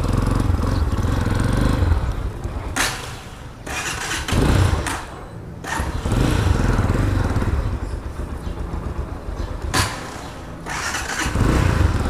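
A Tekken 250 motorcycle on a test ride runs with a loud, rough engine drone that repeatedly drops out and restarts or surges, with several sharp bursts and dips, close to the microphone and without talk.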